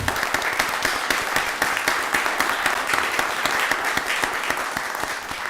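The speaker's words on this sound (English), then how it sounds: "Give him another round of applause." Audience applause at a county board of commissioners meeting, a dense steady roll of many hands clapping from start to finish with no talk over it.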